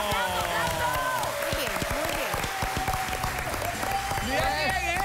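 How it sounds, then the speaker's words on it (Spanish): Applause from a TV studio audience for the host, a dense clatter of clapping with cheering voices and whistle-like shouts on top throughout. "Un fuerte aplauso para su animador."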